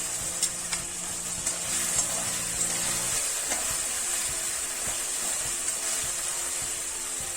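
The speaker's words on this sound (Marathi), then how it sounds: "आता आपण याच्यात बटाटे टाकून घेणार आहोत।" Boiled potatoes going into hot chilli oil in a pan for sabudana khichdi, giving a steady loud sizzle and frying hiss with a few soft stirring knocks, no talk.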